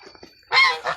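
Farm ducks and chickens calling in the morning beside a pond, a burst of loud honking quacks following quieter clucks and calls, close by.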